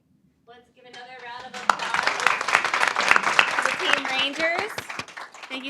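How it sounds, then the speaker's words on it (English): Applause from a summit audience swells after a brief voice and continues as a broad, sustained wash of clapping, with a person talking over it near the end. "Let's give another round of applause to the Team Rangers."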